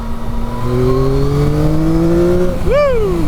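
A 900cc three-cylinder Yamaha MT-09 SP naked motorcycle accelerates hard, its engine note climbing steadily in pitch and then peaking sharply near the end, loud and close, with a brief exclaimed voice over it.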